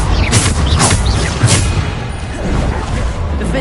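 Loud, close Bombarda spell blasts go off in Hogwarts Legacy, a few heavy booming impacts in quick succession with a dense crackling rumble between them.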